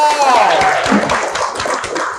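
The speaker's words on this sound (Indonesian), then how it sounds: "Tepuk tangan dong." Scattered audience clapping at a gathering of dog and reptile owners, a few sparse hand claps fairly close, mixed with a brief squeaky sound and some crowd noise.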